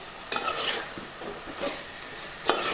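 Vegetables and drumstick pieces sizzle in hot oil in a pan for a drumstick curry, a steady close frying hiss with a few stirring scrapes and clinks of a spoon.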